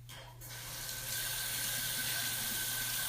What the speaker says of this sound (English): rub, rub, rub, rub, and then rinse again